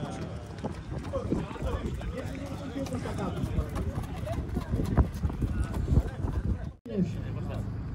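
Horses' hooves clip-clop steadily on the ground at a Greek festival horse parade of ambling, gaited horses, continuous and mid-distance under a male announcer's voice and crowd murmur.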